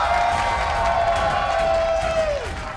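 An LA restaurant crowd cheers and claps during a zombie burrito eating challenge, making a dense, lively roar with a rising whistle-like whoop that slides downward near the end.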